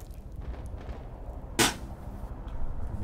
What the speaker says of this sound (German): Ist eine normale Granate explodiert.